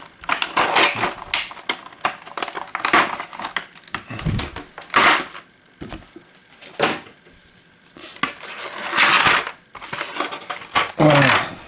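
Pieces of sticky tape being handled and torn while setting up a Zombicide Invader board game, a run of sharp crackling rips and rustles in bursts, close by and fairly loud.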